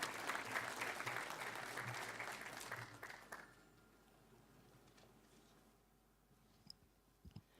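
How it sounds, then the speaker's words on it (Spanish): Audience at a conference applauding to welcome a speaker, steady clapping for about three seconds before fading out, followed by near silence with a few faint taps and clicks. "les vamos a dar la bienvenida y un fuerte aplauso"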